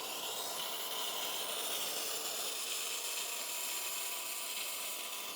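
A Bissell Little Green Hydrosteam spot cleaner sprays steam in a steady, loud, continuous hiss that holds evenly from start to finish, with no talking.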